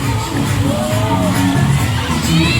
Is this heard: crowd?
yes